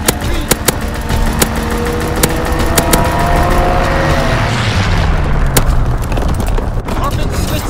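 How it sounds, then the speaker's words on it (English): Bombing run explosions in Call of Duty: WWII on the Shipment 1944 map, a dense, loud barrage of booms and crackling blasts over a droning aircraft roar, with game voice callouts mixed in. "Quick-set bombing mission."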